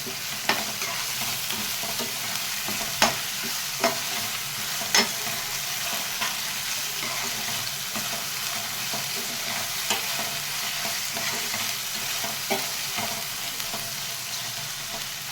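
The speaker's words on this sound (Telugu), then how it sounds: "ఆ మసాలాతోటి టమాటా కూడా వేగిపోయి బాగుంటుంది, పచ్చివాసన లేకుండా ఉంటుంది మసాలాకి" Tomatoes fry with masala in a pan, giving a steady loud sizzle throughout while a spoon stirs and scrapes now and then, knocking against the pan.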